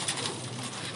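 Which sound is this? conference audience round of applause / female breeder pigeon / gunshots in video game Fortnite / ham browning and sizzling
female breeder pigeon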